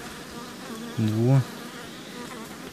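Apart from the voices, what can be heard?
honey bees buzzing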